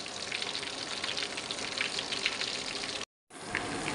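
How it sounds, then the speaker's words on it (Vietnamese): Tà bá mà fish deep frying crisp in a pan sends up a steady, loud, dense sizzle that carries on without a break, then cuts out briefly and resumes. "Mình chiên một bên bây giờ cũng lâu lắm rồi nghe cả nhà"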